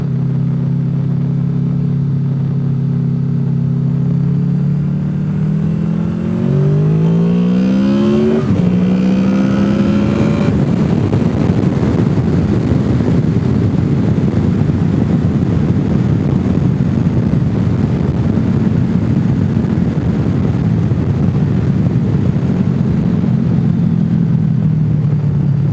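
Engine hum of a motorcycle riding on the road near Deals Gap, with a revving pitch sweep partway through, then a steady loud rumble and road noise continuing to the end.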